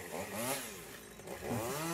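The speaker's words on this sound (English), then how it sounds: "Yeah, chainsaws are very efficient." A chainsaw works through the trunk of an old tree being felled, its engine whining up and down in rising and falling revs, heard at a moderate distance with no speech.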